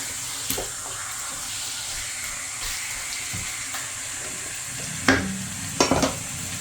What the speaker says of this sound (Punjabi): ਚਿਕਨ ਪਾਉਣ ਤੋਂ ਬਾਅਦ ਇਹਨੂੰ ਇੱਕ ਦੋ ਵਾਰ ਇਸ ਤਰ੍ਹਾਂ ਮਿਕਸ ਕਰ ਲੈਣਾ ਹੈ